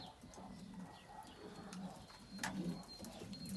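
Young pigeons cooing in a cage, soft low coos repeating under steady background noise with a few faint chirps.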